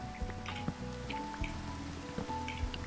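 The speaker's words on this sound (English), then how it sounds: "Oh, it's raining." Rain in Minecraft patters as scattered drips and soft splashes over a low steady hiss, joined by a quiet sustained musical tone, with no talk.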